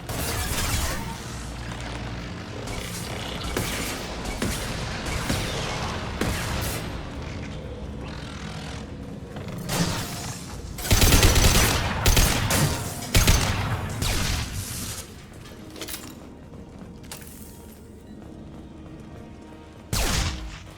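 Hacked defensive turret fire in the video game Mass Effect 2: sustained bursts of rapid gunfire with booming impacts, loud and dense, swelling into heavier volleys midway and ending with a final sharp burst.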